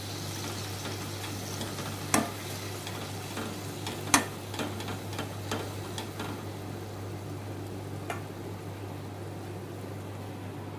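Masala paste of onion, tomato and green chilli frying in a pan, a soft steady sizzle with a low hum and a few sharp clinks of stirring, quiet and continuous with no talking.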